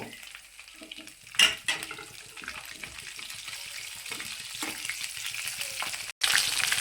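Green chillies fry in hot oil in a pan for a salt fish curry, a steady close sizzle with a few sharp bursts of spattering and a spoon clanking as they are stirred, with no voices.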